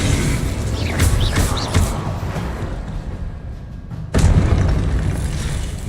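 The Incendio fire spell in Hogwarts Legacy gives off booming magical blasts and bursts over a dense game soundscape, with a strong impact about two-thirds through.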